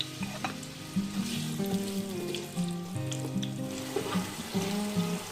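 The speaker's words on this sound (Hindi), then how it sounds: "अब इसमें मैं 2 कटे हुए प्याज वो ऐड कर रही हूँ" Two chopped onions hit half a cup of hot oil in a cooking pot, giving a steady, close sizzle and frying hiss with light stirring clatter throughout, no voices.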